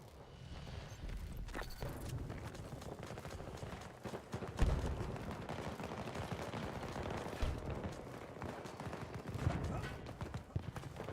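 Rapid gunfire comes from a backup sidearm in the Battlefield 2042 shooter, with bursts of shots amid battlefield noise, and a voice speaks over the shooting.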